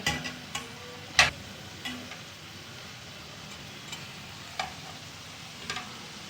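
Chicken bread rolls fry in hot oil with a steady low sizzle, and a few sharp crackles and pops stand out over it.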